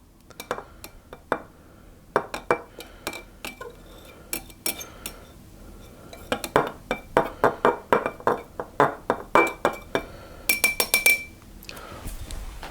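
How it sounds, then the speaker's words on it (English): A spoon clinks steadily against a bowl while a lemon juice mixture is stirred. The taps are bright and rhythmic and close up, and they quicken into a tight run near the end. "I'm just going to give it a little bit of a stir around to let it start to dissolve."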